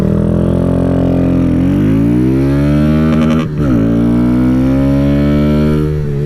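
Kawasaki Z125 motorcycle pulling hard under wide-open throttle, its engine note climbing steadily through the revs with a brief dip at a gear change before rising again, loud and close throughout.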